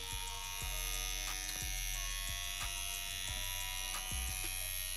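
Steady electric buzz of a CNC X-WE wireless tattoo pen running while lining, a constant close hum with faint clicks recurring about once a second, no voices.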